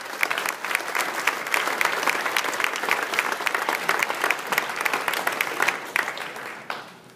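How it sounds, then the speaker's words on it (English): A live audience at a sports and tech fantasy gaming panel event breaks into sustained, even applause for the panel, a full room of clapping that holds steady before tapering off at the close. "big round of applause for our great panel"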